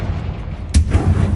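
Confringo blasting spell explosion in Hogwarts Legacy, one sudden heavy boom that hits after a low rumbling lead-in and then rolls into a short, deep, booming tail.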